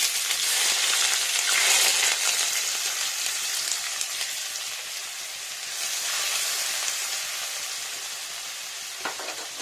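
Chopped onion, fenugreek seeds and sugar fry in hot oil for a small pond-fish curry, giving a steady, close, loud sizzle that crackles continuously for about ten seconds, with a slight swell near the start and again midway.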